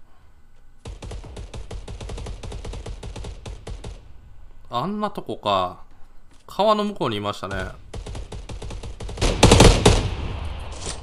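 Rapid automatic gunfire rattles in the mobile battle-royale game Knives Out, a long run of fast evenly spaced shots followed by scattered bursts. A player talks over the later shots.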